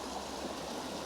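Peach Creek flowing beneath a trail bridge, a steady broadband rush of moving water, even and continuous throughout with no voices.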